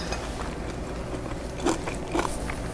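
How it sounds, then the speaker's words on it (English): Two crisp crunchy bites into toast topped with escarole and cannellini beans, close and fairly quiet, spaced about half a second apart over a low steady background hum. "take a little veg and a little beans and put them on a toast and eat it that way"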